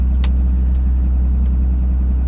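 A diesel truck engine runs at about 1300 RPM in third gear with the torque converter locked, a steady low rumble close by, and a few faint clicks on top.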